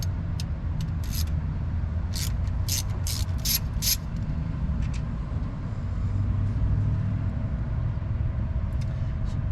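A quarter-inch drive ratchet turns bolts on a 1970 Dodge, giving a quick run of light, rhythmic clicks over a steady low rumble of traffic and engine noise.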